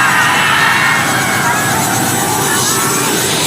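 A helicopter arrives at a packed outdoor celebrity event, heard as a loud, steady rotor and engine roar that fills the whole scene and is blended with crowd noise throughout.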